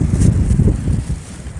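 Gusty, swirling wind buffets the microphone at a coastal fishing spot on Magando, Namhae, a loud continuous low rumble with irregular surges and no talk.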